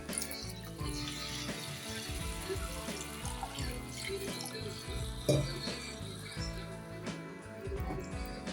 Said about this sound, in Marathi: आता ह्याच्यात आपण पाणी टाकून घेऊया जेवढं हवं तेवढं